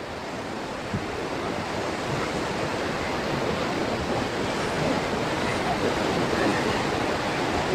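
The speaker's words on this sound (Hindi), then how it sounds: "देखो पहाड़ से आ रहा है पानी" A swollen, flooding river rushes down from the mountains after heavy rain, a loud continuous broadband roar of churning water with some wind buffeting, steady throughout and with no voices.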